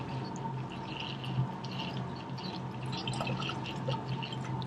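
Water runs through a lab condenser during an organic chemistry elimination setup, making a faint, steady trickle with scattered small drips that stays low and continuous throughout.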